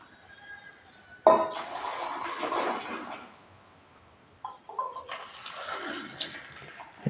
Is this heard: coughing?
no